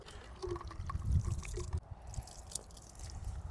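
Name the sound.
rinsing a whetstone and axe blade with water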